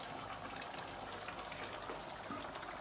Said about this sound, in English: And then I just let it bubble away at a very, very modest point of bubbling.